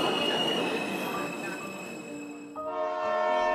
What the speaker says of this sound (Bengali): রাত 9টা নাগাদ ট্রেন এসে ঢুকলো ধবলপুর স্টেশনে।